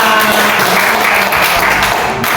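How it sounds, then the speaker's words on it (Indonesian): Applause from a classroom group during a peer-teaching training session, a steady wash of clapping that fills the short stretch without any talk over it. "tepuk tangan buat kita semua"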